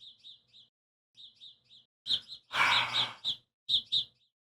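A bird chirps loudly just outside, repeated bright tweets in short bursts and paired calls, with a louder, busier flurry of calls in the middle.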